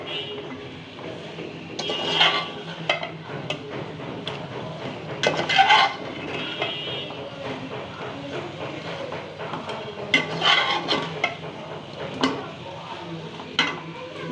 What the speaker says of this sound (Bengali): মশলার সাথে এবং মাংসর সাথে ভালো করে মিশিয়ে নিব।